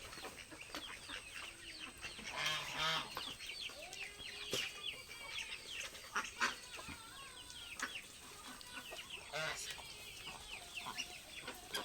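Chickens or ducks in a coop being fed cluck and chatter in a busy, irregular chorus, moderately distant and fairly faint against a steady outdoor background with a constant high whine.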